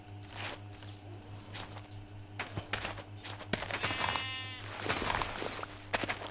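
Sheep in the video game RLCraft bleat several times over a steady low hum, with light footsteps and an insect-like buzz in the background.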